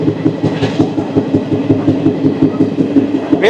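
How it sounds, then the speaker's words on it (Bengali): A passenger train pulls out on the short Tinpahar–Rajmahal route in India, its wheels setting up a steady, loud clickety-clack that runs unbroken and close by, with no voices. "বেশ কিছু প্যাসেঞ্জার নিয়ে ট্রেনটি তার গন্তব্যের উদ্দেশ্যে ছেড়ে যাচ্ছে"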